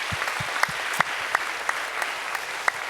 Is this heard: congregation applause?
yes